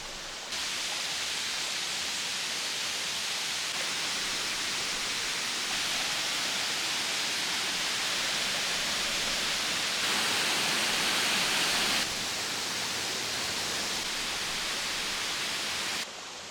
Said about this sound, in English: So Lugnason Waterfall